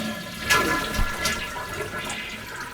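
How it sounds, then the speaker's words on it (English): A household toilet flushed with its lever, a loud, close rush of swirling water with a strong surge near the start that keeps gushing steadily, no talking. "when I push the flush lever out here, this arm comes up"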